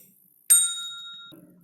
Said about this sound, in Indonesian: kemudian pada aset saya pilih suara bell.